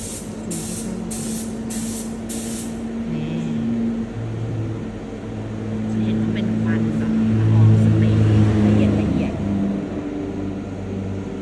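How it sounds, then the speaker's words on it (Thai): A steady hiss of a paint gun spraying primer on a car headlight runs throughout, with a low engine-like hum beneath and a few short sputters near the start. "ก็คือพ่นรองพื้นไปก่อนนะคะ"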